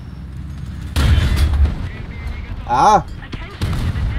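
A tank gun fires in War Thunder from an Obj. 906, with a heavy, booming blast partway through, followed by rumbling battle noise and a man's short exclamation over it.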